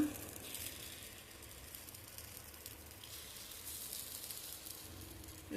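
Pongadalu batter spooned into a hot paniyaram pan sizzles softly, a faint steady frying hiss with small crackles and occasional light pops, quiet and close.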